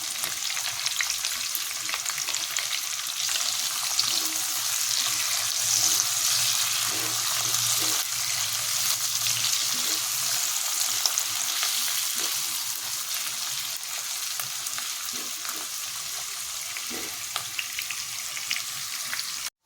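Capsicum and ginger fry in a hot pan with a continuous bright sizzle and occasional stirring scrapes, holding steady for around twenty seconds.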